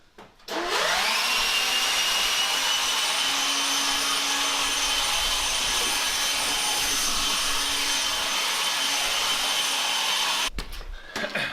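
A DeWalt 60V cordless leaf blower starts and runs continuously for about ten seconds with a loud, steady whooshing roar, then cuts off; no voices.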